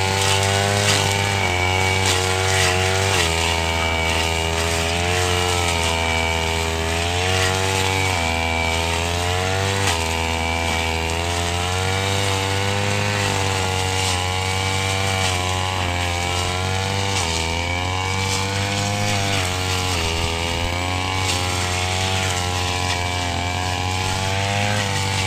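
A grass cutter engine runs continuously up close, its loud buzzing drone rising and falling slightly in pitch as the throttle shifts.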